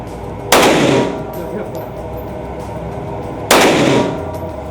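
A Daniel Defense H9 handgun fires civil defense ammunition outdoors, two loud, booming shots spaced about three seconds apart, each trailing off in a long echoing decay.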